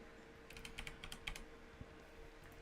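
Slow, irregular keyboard clicks from one-finger typing, a handful of separate key taps clustered in the middle of the clip over a steady low electrical hum, close and fairly quiet.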